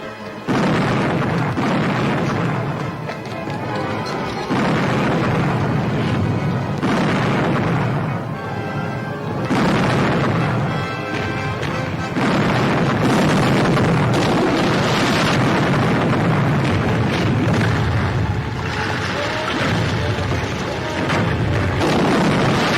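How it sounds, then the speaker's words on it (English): Ship cannons fire in a dramatized pirate battle between a pirate ship and a man-of-war, heard as a sustained, loud wall of booming blasts and rumble that continues without a break. "Man the guns, return their fire."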